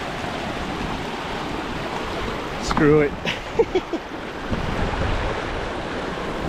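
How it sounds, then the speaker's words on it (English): Steady broadband rushing of a river being forded on a hike in Pisgah National Forest, continuous throughout, with a man's brief spoken remark and a few splashy bumps near the middle. "Fording the river."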